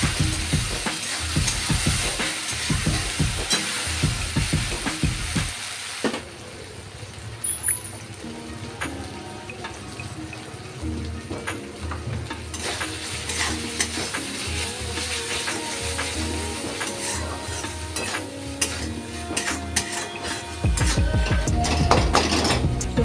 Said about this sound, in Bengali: আদা রসুনের পেস্ট দিয়ে ভালো করে নেড়ে চেড়ে নেব, বেশ কিছুক্ষণ মশলাটাকে একটু ভেজে নেব